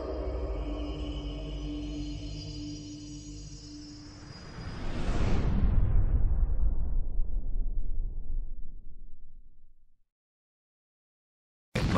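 A chemical-fuel rocket engine launch roar: a loud, broadband rumble that swells for several seconds, then thins and fades away to silence, with no voices.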